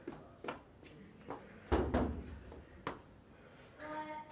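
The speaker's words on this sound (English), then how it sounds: "Knock on brother's door." Knocking on a bedroom door inside a home: a few scattered raps and a louder thump, fairly faint and irregular, with household clatter and a voice near the end.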